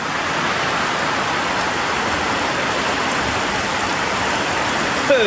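Heavy rain pours steadily in a rural Cambodian village, a dense, even roar of drops drumming on surfaces with no break, ending in a brief sharper patter.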